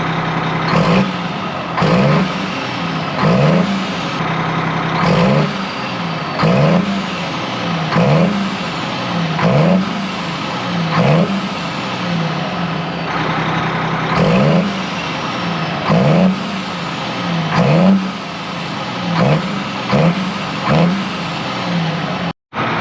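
A stationary truck's engine revs up and drops back repeatedly in a steady cycle, loud and close, the throttle rising to high and falling to low over and over with no talk.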